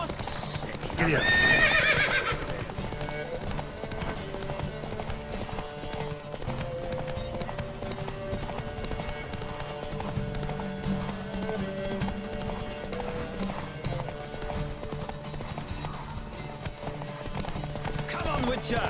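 Horses gallop at a race pace in The Witcher 3, with steady clip-clop hoofbeats and whinnies running the whole way, a loud whinny near the start, and voices calling out over the hooves.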